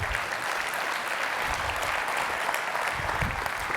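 Steady audience applause at a leadership luncheon keynote, many people clapping evenly throughout at moderate volume, with no talk over it.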